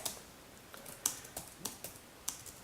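Quick bursts of typing on a computer keyboard during a podcast recording, crisp clicks in an uneven rhythm, close and fairly quiet, with no talk.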